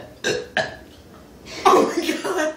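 Burps from a burping contest among young people, one short belch and then a longer, louder one, with excited voices and laughter around them.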